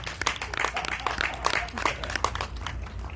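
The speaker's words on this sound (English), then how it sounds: "Give yourselves a round of applause." An audience at a midsummer jazz concert in a Presbyterian church applauds steadily, a dense patter of many hands clapping at once, with faint crowd noise underneath.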